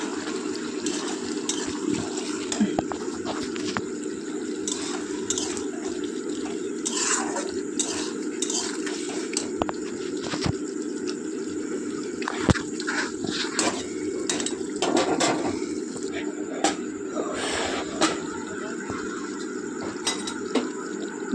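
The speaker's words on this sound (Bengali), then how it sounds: "জলটা 10 মিনিট মতো ফোটাতে হবে।" Steady bubbling and simmering of water boiling in a pot with vegetables and hilsa fish pieces, a continuous near seethe dotted with small pops and clinks, no talking.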